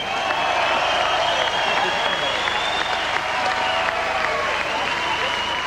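Crowd at an outdoor Barcelona Olympic medal ceremony applauding, a dense sustained clapping roar with cheering voices mixed in, heard from an old recording at a steady, fairly loud level throughout.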